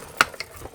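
A mini cut and emboss die-cutting machine cranks through a few quick ratcheting clicks, one sharp and then two lighter ones, close and alone.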